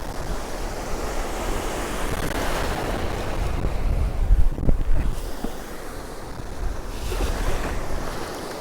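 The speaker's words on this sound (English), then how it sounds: "The waves are getting bigger and bigger because we're getting more depth." Sea waves break and wash on Cromer beach in a constant loud roar, swelling to a heavier surge midway, with wind buffeting the microphone throughout.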